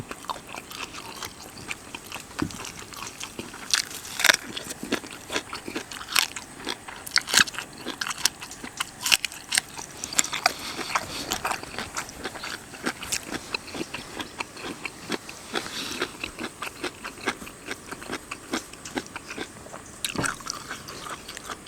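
Someone chews boiled pig stomach, nearly tender and cooked over a wood fire, up close: repeated crunchy, squelchy bites and mastication in an irregular rhythm across the whole stretch.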